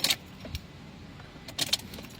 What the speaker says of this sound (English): Cycle ignition off and back on.